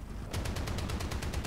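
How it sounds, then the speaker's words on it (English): A roof-mounted machine gun on a tank in War Thunder fires a rapid, evenly spaced burst of close, loud shots that begins after a brief pause and runs to the end. "all you need is the roof-mounted machine gun"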